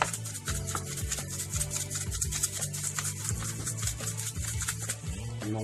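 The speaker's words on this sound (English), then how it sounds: "I'm gonna put it in there, rub it in there." Hands work a thick seasoning rub into BBQ beef short ribs, making a continuous close-up scraping, rubbing sound with rhythmic strokes and no talking.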